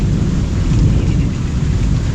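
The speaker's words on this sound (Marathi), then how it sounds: "विजांचा कडकडाट एकदम अशा चमकत आहेत आणि आवाज पण असा भरपूर येतो आहे" Heavy rain pours steadily during a night storm in the Konkan, with deep rolling thunder rumbling continuously throughout, loud and close, with no voices.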